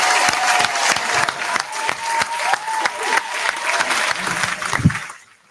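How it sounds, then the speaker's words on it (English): Hand clapping from a small live audience at an evening talk session, a run of sharp distinct claps with some crowd noise that fades out at the end. "I'm clapping."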